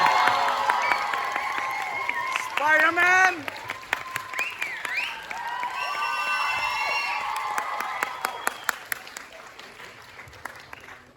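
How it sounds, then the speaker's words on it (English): A festival crowd applauds and cheers for Andrew Garfield at the Red Sea Film Festival, with sustained clapping, whoops and shouts from a large audience and a few voices calling out above the noise. "can we give a big round of applause for Andrew Garfield?"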